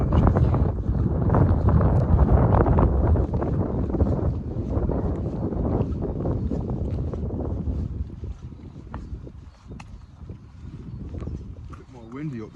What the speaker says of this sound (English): Bit more windy up here and that, to be fair,